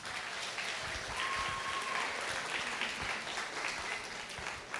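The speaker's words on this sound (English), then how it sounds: "let's give a round of applause for Callista." A school career day audience in Waianae gives a round of applause for the opening speaker: steady, moderately loud clapping from many hands, sustained evenly throughout without any talking.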